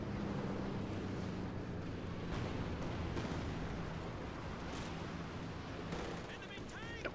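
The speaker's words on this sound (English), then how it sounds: "And little bit of artillery" Artillery fire in Company of Heroes 2 during a 2v2 match: a dense, continuous battle din with scattered booms and crackling impacts throughout, mixed under commentary speech.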